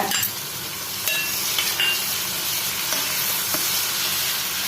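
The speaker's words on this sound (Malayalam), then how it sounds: "ഒന്ന് ഇളക്കി കൊടുക്കാം" A spoon scrapes through tomato egg roast frying in a pan with green chili, turmeric and curry leaves, the steady close sizzle broken by a few sharp scraping strokes.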